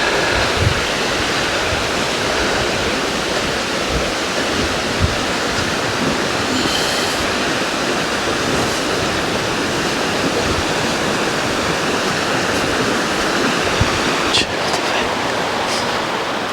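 River water in Wicklow rushes loudly and continuously at the Meeting Bridge where two rivers join, a dense, close, unbroken roar of flowing water.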